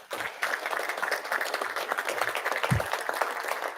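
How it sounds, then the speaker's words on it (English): Audience at a law enforcement training center graduation ceremony applauds the graduates' families: dense, steady clapping from a sizable crowd that lasts throughout. "So if you would stand up, give them a round of applause."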